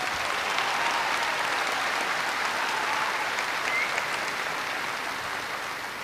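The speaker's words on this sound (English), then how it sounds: "I would like to give them a round of applause again for that moment" An audience at a high school graduation ceremony applauds the choir with sustained, dense clapping that stays fairly even from start to finish.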